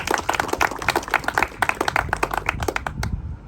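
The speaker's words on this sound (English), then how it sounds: "we give the citizens of Gilbertville a big round of applause for that" Citizens at a Gilbertville ribbon cutting applaud outdoors, a fairly small crowd whose individual claps stay distinct in a quick, uneven patter before fading out near the end.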